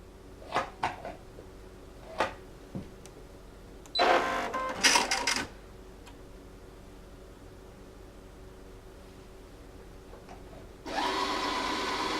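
A Brother Innov-is NS2750D sewing and embroidery machine runs in bursts while winding a bobbin: a few light clicks, then a loud whirring spin around four seconds, and a steady high whir starting again near the end.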